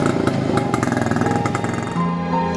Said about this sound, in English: I am continuing maintaining this SD motorcycle and it is in good running condition